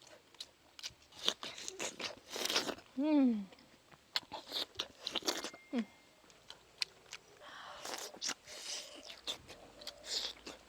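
Crunchy snack food, such as dried tofu, chewed close to the mic in a series of bites and crunches, mixed in with intermittent conversation and a brief vocal sound.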